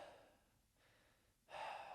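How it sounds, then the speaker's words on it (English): A few quick, sharp breaths taken on purpose before slow mindful breathing, faint and close in a quiet room, with a louder rushing exhale near the end. "sometimes I do a few quick breaths."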